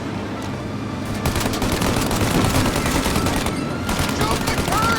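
Rapid gunfire from a Mafia Definitive Edition shootout, dense overlapping bursts of shots crackling continuously and loudly through the whole stretch, with a brief lull near the start.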